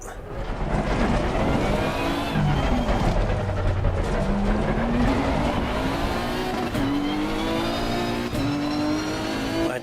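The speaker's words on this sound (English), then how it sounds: "You can hear the sounds reverb as they go past the pit wall." Race cars in Assetto Corsa Competizione roar past the pit wall with reverberating engine notes, several cars rising and falling in pitch as they pass, loud and continuous.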